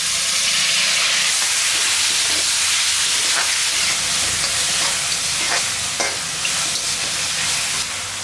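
Tomatoes sizzle and crackle in hot oil in a pan as they are stirred for a chapati egg kothu, with a steady frying hiss and scattered scraping clicks throughout.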